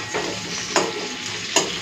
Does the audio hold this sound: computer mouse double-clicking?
no